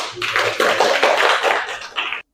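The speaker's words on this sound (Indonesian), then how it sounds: "beri aplaus kelompok 4" Classroom applause for a student group after its presentation, a short burst of brisk hand clapping from a small group lasting about two seconds before stopping abruptly.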